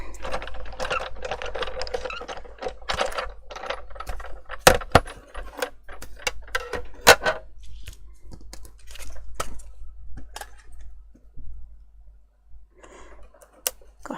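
A Big Shot die-cutting machine feeding paper through its rollers, giving scattered clicks, clacks and rattles up close, mixed with mechanical handling noise and talking for much of the time.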